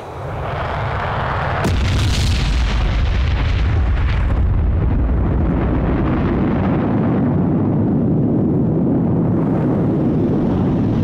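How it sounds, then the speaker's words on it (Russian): A massive, deep atomic bomb explosion erupts and sustains as a long, loud rumbling roar that fills the space and slowly tapers. "произошел взрыв атомной бомбы «Малыш», эквивалентный 13 тысячам тонн тротила."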